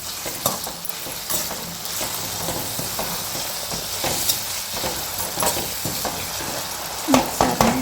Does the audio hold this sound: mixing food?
yes